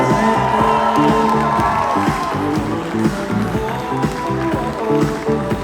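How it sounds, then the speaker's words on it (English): Wedding guests at a rustic mountain creek venue in Vernon Township, New Jersey applaud and cheer for the groom's parents, loud crowd noise with clapping and whoops over a strong musical backing throughout. "We want to keep that applause going for parents of the groom, John and Lynn Gallagher."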